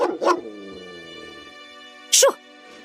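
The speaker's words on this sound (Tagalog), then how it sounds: "Yung aso!" A dog barks at the doorway of a rural Filipino house at night, one sharp bark near the start and another loud one after a pause, over a low sustained musical drone.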